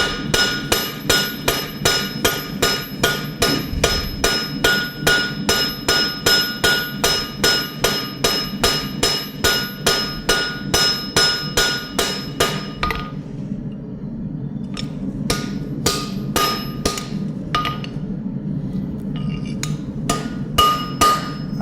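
Rapid, rhythmic metal hammer strikes ringing on a steel tomahawk blade edge, dozens of evenly spaced blows, then a pause followed by a few slower, scattered taps.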